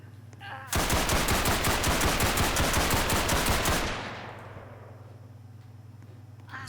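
Rapid automatic gunfire from a weapon in a Roblox game, a loud sustained burst of about three seconds that ends abruptly, over a low steady hum, with a faint voice briefly before.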